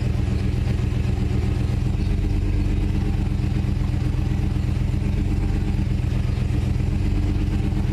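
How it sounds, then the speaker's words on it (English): A 1995 Chevrolet Suburban engine idles in a steady low drone while the steering wheel is turned lock to lock, with a constant rumble and a faint, slight change in tone along the way. "You can hear the engine change."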